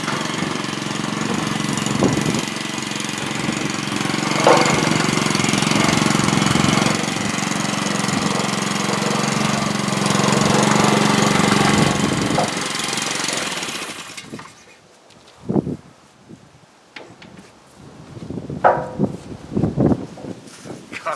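Crane engine running at a dig for an underground workshop bunker, a loud steady mechanical chugging and clatter for about fourteen seconds before it cuts off, followed by scattered knocks and a voice.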